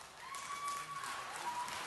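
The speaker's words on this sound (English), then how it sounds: "No applause, please." Audience applause at a city council meeting, a brief burst of steady clapping filling the chamber, with a faint tone running beneath.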